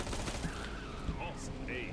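Automatic gunfire rattles in the video game Killing Floor 2, a dense burst of rapid shots blended with game effects and sound layers, close and fairly loud throughout the short span.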